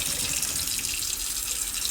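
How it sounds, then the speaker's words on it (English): Hot water poured down a kitchen sink while the cold tap runs, a loud, steady splashing rush of water close by with no voices. "whenever I pour hot water down the sink, I always run cold water with it so it offsets it"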